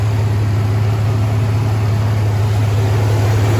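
A 2003 Chevy Silverado V6 engine idling smoothly, a loud, steady low hum with constant mechanical drone heard close up.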